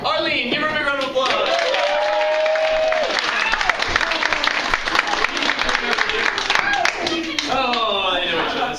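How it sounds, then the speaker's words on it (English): A student showcase audience applauds a volunteer who has just been called up, with continuous loud clapping filling most of the stretch and a voice talking over it at the start and end. "give her a big round of applause"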